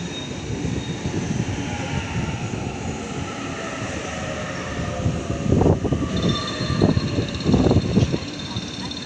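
Sydney train pulling into platform 3 at Redfern station, a steady rumbling roll with rising clatter and squealing tones as it arrives, with station ambience throughout.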